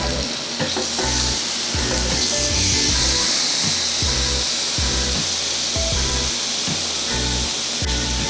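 Steak searing in a cast iron grill pan, a loud steady sizzle broken by repeated bumps and scrapes as the meat is moved and pressed to sear its sides.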